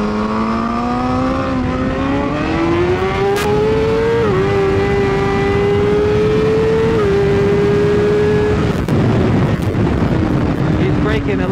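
A BMW S1000RR racing motorcycle accelerates on the track at Ridge Motorsports Park, heard onboard as a loud, steadily rising engine whine that steps through gear changes under heavy wind rush.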